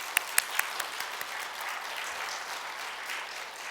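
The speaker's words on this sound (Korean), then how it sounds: "우리 격려와 감사의 마음을 담아서 한번 우리 박수할까요?" A church congregation claps for the worship team, a dense, even wash of applause with a few sharper individual claps standing out at the start.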